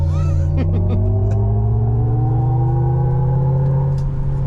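A 2024 Hummer EV, an electric truck with 1,000 horsepower and standard air suspension, launching at full throttle from a brake hold, heard from inside as a loud, steady rising motor whine over dense road rumble.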